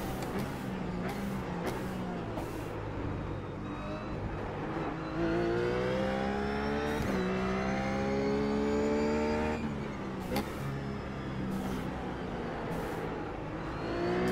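A RUF GT3 race car in iRacing at the Nurburgring Grand Prix accelerates hard down the longest straight, its engine whine rising steadily through upshifts into sixth gear, loud and continuous with no talk.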